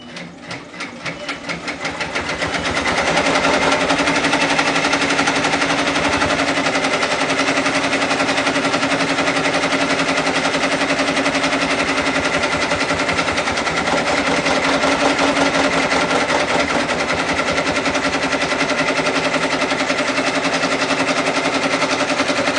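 An embroidery machine sews the flat stitches of a puff embroidery design at 700 stitches per minute. It makes a loud, fast, continuous mechanical rattle that swells in over the first few seconds and then runs evenly, close by and with no voices.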